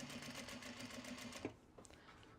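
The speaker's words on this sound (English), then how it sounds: "We're going to sew the box." Sewing machine stitching a fabric traveler sling box at construction stitch length, a steady close motor whir with rapid needle pulses for about a second and a half before stopping, followed by a few faint clicks.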